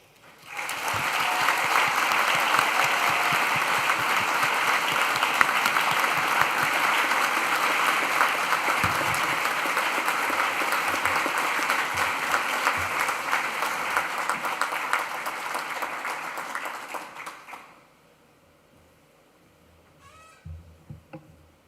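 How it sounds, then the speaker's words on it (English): Graduation ceremony audience applauding in a large hall, loud dense clapping sustained for around seventeen seconds before dropping away abruptly, followed by near-silence and a few faint sounds. "So please join me with a round of applause to show your appreciation and gratitude to the lecturers"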